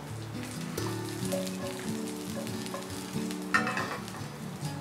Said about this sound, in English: Now let it get sauteed till it gets very nicely golden.